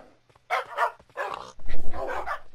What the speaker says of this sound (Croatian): Gledajte koliko tu psa ima.